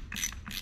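A ratchet takes 10 mm bolts out of a Jet 700LL aerator during a rebuild. Two quick, close clicking bursts come in under a second, crisp and mechanical against quiet background.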